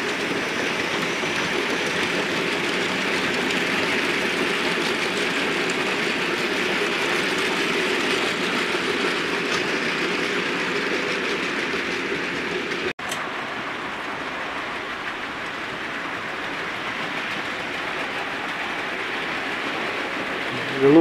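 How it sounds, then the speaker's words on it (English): A class 5 freight train passes through Dent station with a steady, continuous rumble and rail noise that holds at an even level for about twenty seconds, with no talking. "The next train of the day is the 7:10 from Carlisle to Stourton in Leeds, another class 5 freight"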